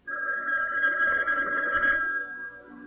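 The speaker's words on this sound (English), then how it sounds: "Guess it must be the phone." A telephone bell rings in a late-night horror movie host segment, a sustained trilling ring lasting over two seconds before cutting off, clear and close.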